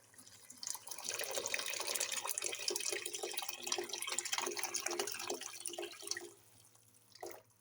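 Boiling water pours steadily into a cooking pot for rice kabsa, a continuous splashing gush lasting several seconds before tapering off, close and clear with no talking.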